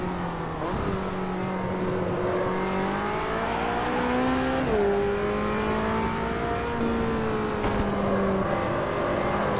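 McLaren GT4 race car engines in a single-make race in Automobilista 2, with a steady loud engine drone rising and falling through gear changes and revs, several cars audible, no talk.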